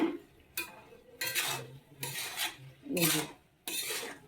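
A spoon scrapes and stirs curry in a metal pot in five separate strokes with short pauses between them; each scrape is close and gritty, and faint background noise sits underneath.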